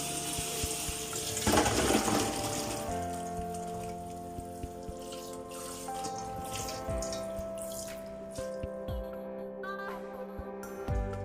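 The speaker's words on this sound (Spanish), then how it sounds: "Vamos a enjuagarla." Fava beans rinsed under a running kitchen tap, water splashing and trickling steadily with small drips and clatters, close and moderately quiet, with a faint tonal hum underneath.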